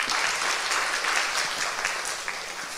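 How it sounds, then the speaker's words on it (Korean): A church congregation at a Sunday school teachers' dedication service applauds to welcome the pastor, a warm, continuous clapping that is even and moderately loud throughout. "이제 목사님 나오실 때 뜨거운 박수로 환영하겠습니다"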